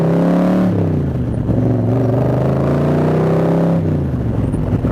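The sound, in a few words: 1965 Shelby Cobra replica engine roaring through headers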